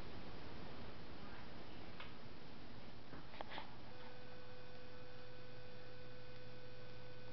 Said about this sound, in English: 52 inch, 5 blades, 4 lights. Very beautiful fan.